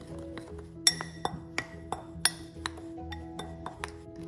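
A spoon taps and clinks against a glass bowl while dry spice powders, asafoetida and salt are mixed for cauliflower dry masala. The sharp, ringing knocks come at an uneven pace over a quiet background, close by and without speech.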